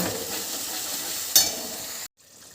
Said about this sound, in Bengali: তাহলে এবার দিয়ে দিচ্ছি লবণ হলুদ আর কাশ্মীরি লঙ্কার গুঁড়ো মশলাটা ভালোভাবে কষিয়ে নেব